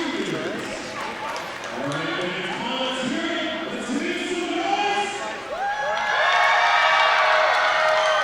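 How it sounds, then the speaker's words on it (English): Crowd noise builds at a women's college basketball game, SFU versus SPU, in the fourth quarter, a broad cheering swell under steady commentator talk that grows louder toward the end. "Crowd getting into it here"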